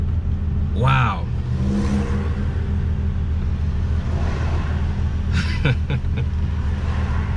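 A Lamborghini LM002 truck drives along with a steady, rumbling engine drone, swelling briefly with a couple of revving surges near the start and middle, close and continuous throughout.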